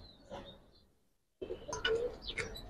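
A female Giribaz pigeon gives a few soft, close cooing calls, separated by a brief quiet gap, with faint chirps nearby.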